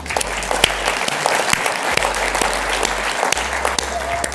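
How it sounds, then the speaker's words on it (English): Applause from the audience at a 2016 Aviva annual general meeting, a dense steady round of clapping filling the hall for about four seconds. "that deserves a round of applause"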